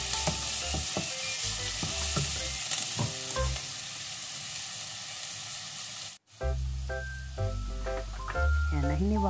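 Garlic sizzles as it sautés in a pan for Filipino Bicol express. The frying hiss runs steadily, and a voice talks over it.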